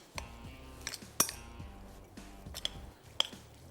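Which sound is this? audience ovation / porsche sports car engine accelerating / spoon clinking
spoon clinking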